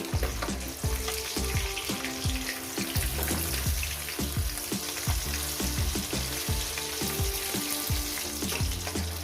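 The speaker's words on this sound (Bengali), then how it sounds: "এই করে আমি মাছগুলো একেবারে ভেজে নিয়ে ফিরছি" Pabda fish frying in a pan gives a steady close sizzle, punctuated by a regular run of dull knocks and scrapes from stirring or turning the pieces, with no voices.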